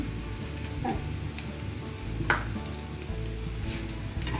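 Sugar is stirred in a cooking pot over oil that sizzles steadily, with a spoon scraping and a sharp clink against the metal near the middle.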